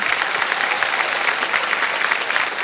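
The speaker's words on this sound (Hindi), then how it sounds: "तो इसके लिए भी हम आपके लिए ताली बजवा देंगे।" A studio audience on the KBC quiz show claps in dense, even applause, loud and close throughout with no pauses.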